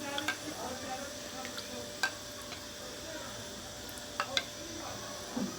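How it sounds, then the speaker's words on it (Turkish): A ladle scoops hot broth into a pot of chicken tripe soup to temper it, with a soft steady liquid wash and a few light metallic clinks against the pot, quiet and close. "Şimdi bir kepçe bu sudan alıp çorbamı ılıtıyorum."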